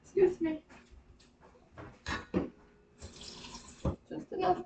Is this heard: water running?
yes